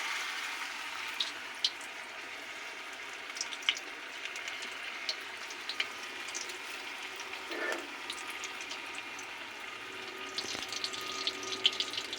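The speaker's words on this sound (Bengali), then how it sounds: "পনিরের টুকরোগুলো ব্যাটারে ডুবিয়ে গরম তেলে ছাড়বো" Faint, continuous sizzling and crackling of battered paneer frying in hot oil, with occasional small pops and soft clinks, no talking.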